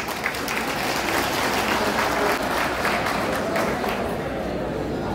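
Dense, continuous applause fills a hall at a community event for long-married couples, a loud crowd clapping steadily throughout with some voices mixed in.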